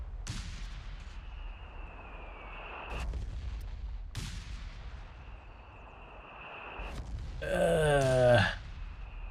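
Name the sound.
artillery shells landing in Company of Heroes 3 video game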